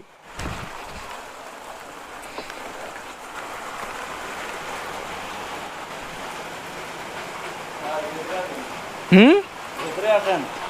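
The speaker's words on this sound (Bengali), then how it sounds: "বৃষ্টি যে বাইরে" Steady rain falls outside, a broad continuous hiss through the whole stretch, with voices breaking in briefly near the end.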